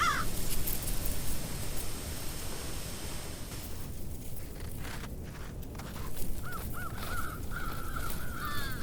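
Crows caw in a remote open Wisconsin area in early spring: a few harsh calls early, then a run of repeated caws toward the end over rustling wind and faint footsteps.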